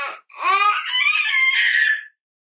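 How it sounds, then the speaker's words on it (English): A young child lets out high-pitched screams, a short squeal followed by a long, shrill, wavering shriek, close and loud, then silence. "sorry for the high-pitched screams"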